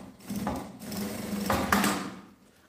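A sewing machine stitches a short rounded seam on a fabric cube-shaped cosmetic pouch, giving a few brief bursts of close, moderately loud mechanical whirring with pauses between them.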